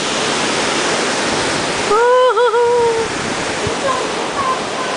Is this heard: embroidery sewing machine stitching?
no